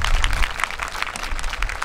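An audience applauds a high school concert band in a hall, steadily, a dense wash of many hands clapping at once, loud and sustained throughout.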